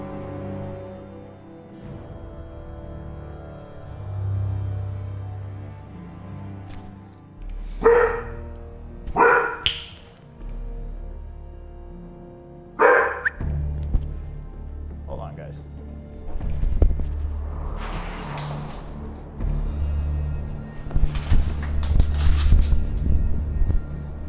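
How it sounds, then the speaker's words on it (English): Dog barking in the game Fallout 4, several sharp barks in separated bursts over a low rumbling backdrop, with someone talking across parts of it. "Damn dog keeps barking."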